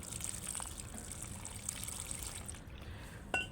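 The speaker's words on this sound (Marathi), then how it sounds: "तुळशीला असं स्वच्छ पाणी घालायचं हे असं" Clean water pours in a steady, gentle trickle onto a holy basil plant, splashing softly onto leaves and soil, with no one speaking.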